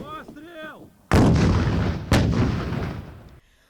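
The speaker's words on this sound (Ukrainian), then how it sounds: "американський протитанковий гранатомет М-72, який розробили ще за часів в'єтнамської війни" A loud blast from an M72 anti-tank rocket launcher firing at a training range, followed about a second later by a second heavy boom, both echoing and fading; a brief voice-like tone precedes them.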